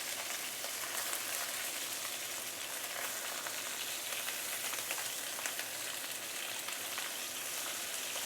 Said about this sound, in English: So this is approximately 4 minutes pan frying in total.